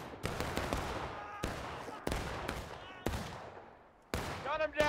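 Musket and rifle volleys crack in the War of Rights video game, a Civil War battle in Maryland, with several sharp, loud shots and ragged bursts spaced across the moment, while a voice shouts near the end.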